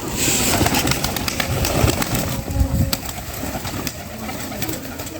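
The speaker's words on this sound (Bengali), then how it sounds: "ওই যে ওই যে কবুতরটা দেখতে পাচ্ছেন" Pigeons cooing nearby in soft repeated low calls, mixed with some rustling and a few sharp clicks, no speech.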